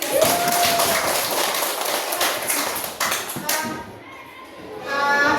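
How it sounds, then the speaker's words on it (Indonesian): Students in an Indonesian classroom clap hands together, a dense, steady patter of many hands over about five seconds, with a voice briefly audible near the start and the clapping thinning slightly before swelling again at the end. "Ya, kalau kita tepuk tangan dulu."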